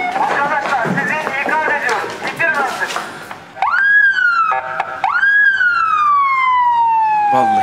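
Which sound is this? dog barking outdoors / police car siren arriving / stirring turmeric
police car siren arriving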